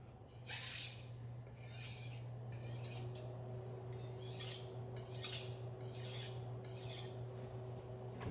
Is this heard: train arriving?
no